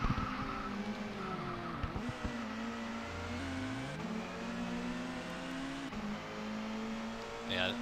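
Race cars in the ToCA World Touring Cars video game drone steadily with engine pitch rising and falling through gear changes, a continuous in-car engine note with occasional tyre squeal and a voice talking over it.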